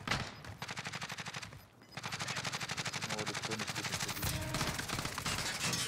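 Sustained rapid automatic fire from a weapon in Warzone rattles on almost without a break after a brief lull, steady and close.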